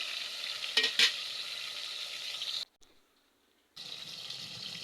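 Pangas fish frying in a covered pan, a soft steady sizzle with a couple of sharp clinks, a brief near-silent gap, then the bubbling hiss resumes.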